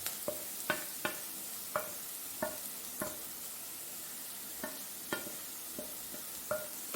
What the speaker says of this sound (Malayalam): ഇതിലേക്ക് നമുക്ക് ഈ പൊടികൾ ഇട്ട് കൊടുക്കാം